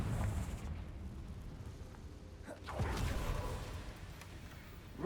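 A Confringo blasting spell goes off in Hogwarts Legacy. A dense, rumbling roar of noise runs throughout, swelling into a heavier whooshing burst about midway before settling back into a steady rumble.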